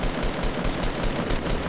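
Rapid gunfire in a shooter video game, a dense, continuous burst of automatic shots that stays loud and close throughout, with no voices.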